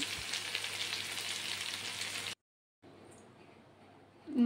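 Chicken frying in a pan during home cooking, a dense bright sizzle that runs for a couple of seconds, cuts out abruptly, then returns softer with a small bump at the end.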